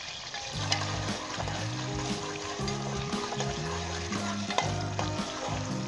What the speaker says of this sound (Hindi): तेज आंच के ऊपर हमने इसे फ्राई करना है।